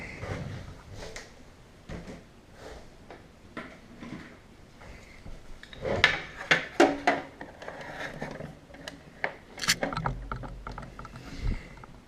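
Packaging around a Black Series Darth Vader helmet is opened up close: cardboard rustling, scraping and small clicks, with a cluster of sharper knocks and crinkles in the middle. No one speaks.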